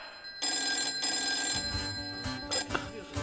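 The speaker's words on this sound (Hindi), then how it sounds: "फोन किसका बज रहा है?" A telephone rings steadily with a bright, repeating electronic tone, clear and close, with some low thumps and background activity beneath.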